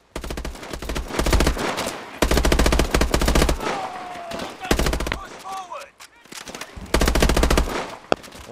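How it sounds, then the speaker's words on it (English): Video game gunfire from Call of Duty: Advanced Warfare, with dense machine-gun bursts in repeated loud volleys, separated by short lulls that carry game effects and a few isolated shots. "I'm getting shot up out here"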